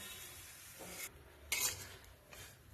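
Semolina roasted and stirred in a pan, quiet intermittent scraping strokes of a spoon against the pan with a brief louder clink-like scrape midway, over a low background hiss.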